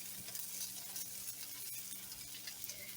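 A stuffed bacon, vegetable and cheese omelet sizzles steadily in a frying pan just after being flipped, a soft continuous crackle with no talking.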